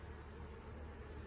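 Honey bees buzz around a five-frame nuc beehive, a faint, steady drone of many insects holding throughout with no voices.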